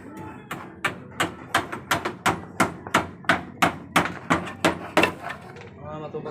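A steady series of sharp hammer blows on wood, about fifteen strikes at a brisk regular rhythm, close by, during construction of a bamboo nipa hut, with faint voices in the background.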